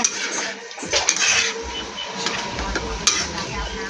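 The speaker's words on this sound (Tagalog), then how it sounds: "Haluin mo na." A spoon scrapes and clinks through cheese stick filling in a pan, the seasoned mixture sizzling softly underneath as the stirring continues in quick, uneven strokes.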